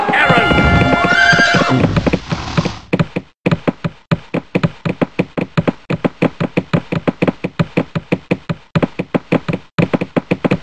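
A horse in the Rival Realms strategy game whinnies loudly at the start, then a long run of rapid, evenly spaced hoof clip-clops follows, sharp and close.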